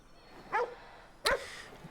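Dog in the video game Ghostwire: Tokyo gives two short yipping barks about three-quarters of a second apart, close and clear over quiet background ambience.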